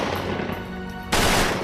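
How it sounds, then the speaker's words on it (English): Automatic gunfire crackles during a police shootout in Hollywood, a dense rapid burst of shots that swells sharply louder partway through, continuous and harsh. "We are all pinned down by automatic gunfire."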